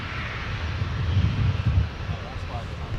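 A Delta jet airliner taxis at Minneapolis–Saint Paul airport, its engines a low, steady rumble that swells slightly midway, with radio chatter running over it.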